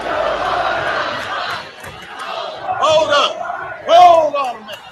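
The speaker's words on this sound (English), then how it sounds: "he's getting booed" A crowd boos a speaker on stage, a sustained jeering roar with louder swells and shouts rising near the end, voices mixed through the noise.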